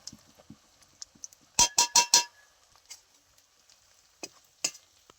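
Ground chili, turmeric and cumin are stirred into frying ginger, garlic and onion for a shrimp and Malabar spinach dish, producing quiet ticks and taps with a quick cluster of four scraping clinks partway through.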